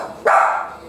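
A single sharp bark from a pet dog at close range, loud and abrupt, then fading quickly inside a quiet indoor room.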